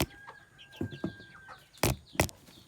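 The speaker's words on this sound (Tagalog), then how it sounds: "Yung manok ko, naghihintay." Native chickens waiting to be fed cluck in short, scattered bursts, with a couple of louder squawks near the end; the birds sound close and no one speaks.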